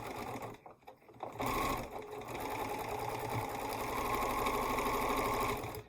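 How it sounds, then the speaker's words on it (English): A sewing machine stitches fabric pieces together, running steadily and close by with a rapid mechanical chatter that pauses briefly near the start and then continues without talk. "it's easy to sew these together"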